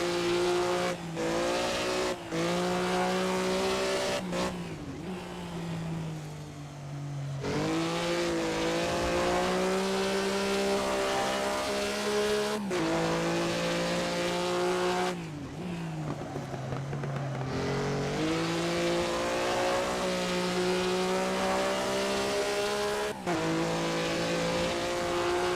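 Racing car engine in a 1950s Grand Prix video game at Bremgarten, a crooked-wheeled car that is still quick, droning steadily at high revs with pitch dropping and climbing through gear changes, plus occasional tyre squeal, loud and continuous.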